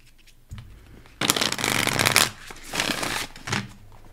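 Moonology oracle cards being shuffled during a full moon tarot-style reading: a brief riffle, then a dense, loud rustling flutter of cards for about a second, followed by softer shuffles and taps, with no talking.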